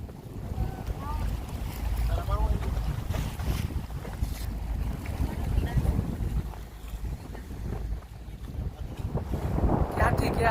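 A boat ride on a river at Kankroli, Rajasthan: a steady rumble of the boat and water runs throughout, with wind buffeting the microphone and faint voices in the background.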